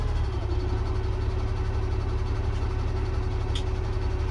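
A dump truck's engine with worn piston rings idles steadily, giving a continuous low, rumbling drone that holds even throughout, with no talking over it.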